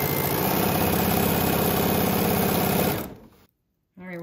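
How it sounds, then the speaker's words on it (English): A home sewing machine runs loud and steady, stitching a Y-seam on quilting fabric, then winds down and stops, followed by a moment of silence and a faint voice. "we are at my sewing machine"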